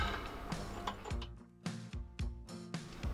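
An M8 bolt being threaded into a freshly drilled and tapped hole during modifications to an SSL, giving a short run of crisp, evenly spaced metallic ticks and clicks close by, with no talking.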